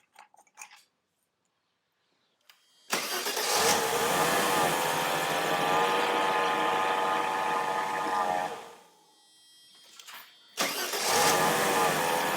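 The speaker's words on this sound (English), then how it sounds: "I'm gonna start the car, 2 seconds, and let go," A 1994 Mercedes C280 W202 is started during a power steering flush. After a quiet pause the engine cranks and catches into a loud steady idle for about six seconds, then is cut, then restarts briefly.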